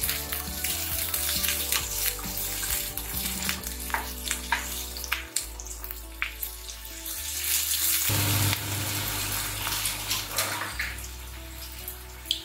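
Chopped medium-sized onion sautéing in a pan for an aloo palak mutter dish, a steady loud sizzle with crackling bursts running the whole time, with music underneath and no voices.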